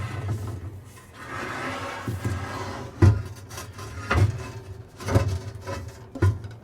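A pizza stone slid into a Sunterra wood-fired outdoor oven, giving a series of scraping, knocking bumps about once a second as it is eased in over a low steady hum.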